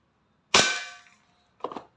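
A WE Glock 35 airsoft gas pistol fires a single sharp, loud crack that trails off quickly, followed a second later by a shorter, fainter clatter.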